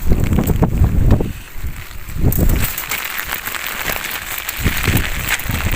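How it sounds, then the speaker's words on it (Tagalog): Strong wind buffets the microphone in heavy gusts beside a lake in Santa Rosa, Laguna, roaring and rumbling steadily with rushing noise throughout. "malakas yung hangin dito sa kaulan"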